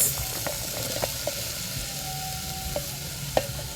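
Tomatoes, carrots and green pepper with turmeric, simba and salt sizzle steadily in a pan for Ugandan katogo, with occasional stirring scrapes and clinks over the continuous frying hiss.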